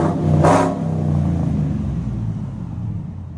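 A supercharged GMC Denali with a 6.2L V8, dual exhaust and Valvetronics mufflers gives a loud, close rev that flares sharply and then settles into a deep, rumbling idle.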